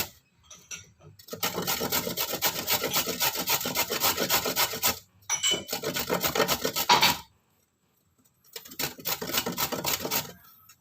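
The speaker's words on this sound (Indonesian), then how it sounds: "Ini saya serut aja ya." Vegetables shredded on a grater for bakwan fritters make repeated rough rasping strokes in three long bursts separated by short pauses, close and fairly loud.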